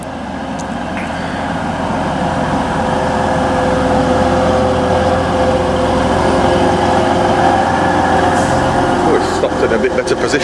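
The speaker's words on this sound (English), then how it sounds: "let's get on this train, 185" A Class 185 train runs on the line toward Leeds, heard from on board as a loud, steady engine drone and rumble lasting throughout, with a few brief rattles near the end.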